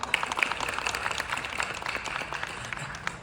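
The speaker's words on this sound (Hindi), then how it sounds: "मैं चाहता हूँ जोरदार तालियां किया जाए।" Applause from an audience at a gathering of snake catchers in Lucknow, steady moderately loud clapping from many hands with scattered sharper claps, a faint voice in the background.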